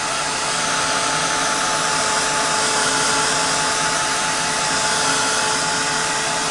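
Hair dryer blowing on watercolor paper, a loud, steady whooshing motor hum that runs unbroken for the whole stretch with no talking.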